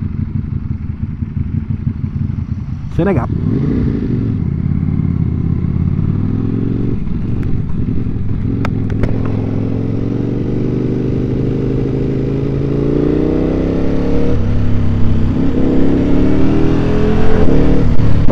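A Ducati Panigale V4S fitted with a Termignoni four-outlet exhaust, heard from the rider's position while riding: a loud, continuous engine drone that holds steady and rises near the end. There is wind noise throughout and a brief spoken phrase.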